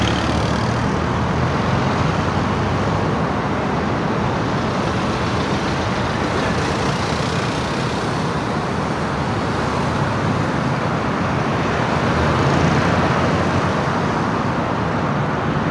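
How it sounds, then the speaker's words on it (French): Heavy road traffic in Côte d'Ivoire makes a dense, continuous roar of many cars, trucks and buses passing close by, loud and unbroken throughout with no talk. "Mais il y a tellement de véhicules ici."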